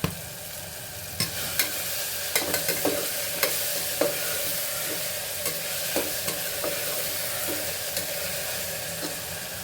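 Tomato and onion with salt frying in a pan, a constant soft sizzle broken by repeated sharp scrapes and taps of a spoon stirring against the pan.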